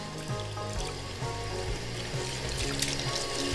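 Faucet water runs steadily as hands are rinsed beneath it, a close, continuous splashing stream with faint shifting tones, no talking.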